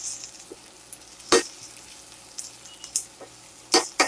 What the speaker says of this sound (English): I'll go ahead and stir them around for about a minute.